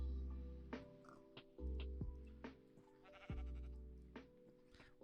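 Several soft sheep bleats in Minecraft repeat at irregular intervals, quiet and close, with light clicks in between.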